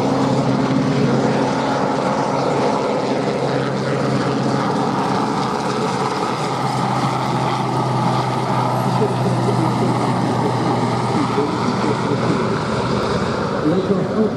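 RAF Sea King search and rescue helicopters of B-Flight, 22 Squadron take off at an air show, a steady loud droning rotor and engine roar that holds throughout, with crowd noise beneath.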